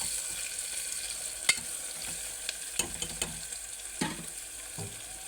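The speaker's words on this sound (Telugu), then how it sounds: "ఉల్లిగడ్డలు పచ్చిమిర్చి వాసన పోయేదాకా కాసేపు ఇలా వేయించుకొని" Onions and green chillies fry in a pan for a Telangana-style mutton curry, giving a soft steady sizzle broken by a few sharp clinks and scrapes of a stirring spoon, heard alone.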